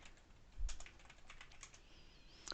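A short burst of quiet keystrokes on a computer keyboard, a handful of light clicks entering a terminal command, close and soft with no voices.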